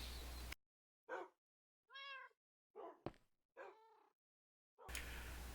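Pet cats in a video game give several distinct meows, each short call separated by silence, heard close and clear with no other sound around them.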